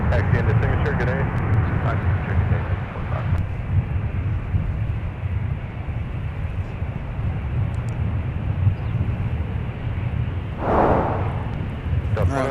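Eastern Air Express airplane arriving at MSP airport, a steady loud broadband jet roar with heavy wind buffeting on the microphone, continuous throughout with a brief louder gust near the end.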